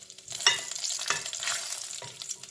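Green chillies frying and being stirred in about two tablespoons of hot olive oil for bhindi masala. A steady close sizzle runs throughout, with scraping stir strokes over it and no talking.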